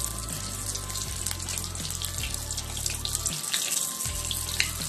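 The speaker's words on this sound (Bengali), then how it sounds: "তোমার তেলটা গরম হয়ে গেছে, এবার আমি লুচি ছেড়ে দিলাম" Luchi (poori) for green peas poori frying in hot oil, a continuous hissing, watery sizzle with faint bubbling, fairly quiet and close, with no one speaking.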